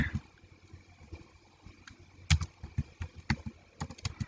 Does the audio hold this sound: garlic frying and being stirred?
no